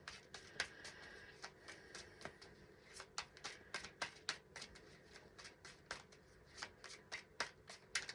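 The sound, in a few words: shuffling the Lightseers Tarot card deck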